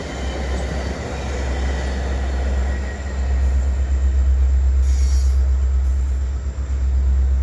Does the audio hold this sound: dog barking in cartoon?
no